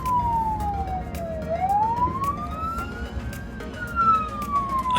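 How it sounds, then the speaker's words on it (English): A paramedic's ambulance siren wails in slow rising and falling sweeps, loud and close over a low road rumble. "I clearly had my lights and sirens going"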